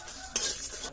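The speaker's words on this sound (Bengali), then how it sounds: "এবার বাকি মশলাগুলো দিয়ে ভেজে নেব।" Spices frying in a kadai for a potato paratha masala, a brief stir and clink of utensils followed by a steady sizzle close by, with no talking.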